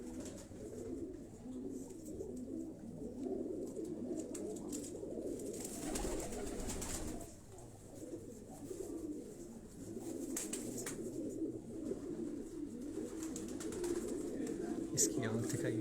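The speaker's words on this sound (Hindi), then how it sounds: "ये चक 79 वाले कबूतर हैं।" Pigeons coo softly and repeatedly in low, throaty murmurs, with people talking nearby and some background clatter; Aseel high-flying pigeons of the Chak 79 line in Quetta.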